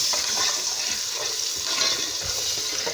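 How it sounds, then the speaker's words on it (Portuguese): Colorau (annatto) fries in a pan while making a creamy chicken empadão filling, producing a continuous, fairly loud hissing sizzle with faint stirring scrapes and no talk. "esse colorau aqui vai fritar"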